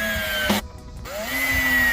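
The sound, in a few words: drill driving screws into wooden sandbox bench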